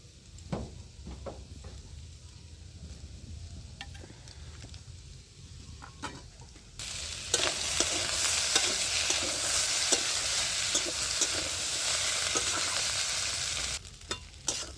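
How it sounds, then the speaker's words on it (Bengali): Spiced potatoes for samosa filling being stir-fried with kasuri methi, with repeated scraping strokes of a spatula over a sizzle that swells to a loud, dense hiss midway before dropping back to scraping. "তো আলুটা আমার কষানো হয়ে গেছে"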